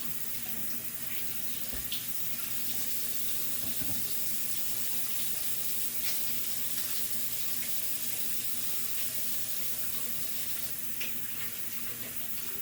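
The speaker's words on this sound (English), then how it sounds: "We're going to wash the hands." Hands being washed under a steadily running kitchen tap, with water splashing continuously into the sink, close and fairly loud throughout and no talking.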